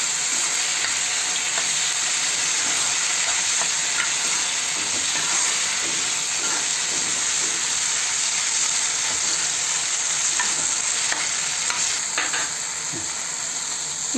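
Chopped tomatoes fry in oil with masala in a pan, a loud, continuous sizzle with scattered scraping stirs throughout, no voices.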